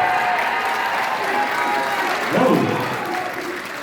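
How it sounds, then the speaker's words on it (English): Audience at a school district band concert claps for the tambourine player, a steady wash of applause with a few cheers and an excited exclamation rising in the middle. "They were clapping for you just then."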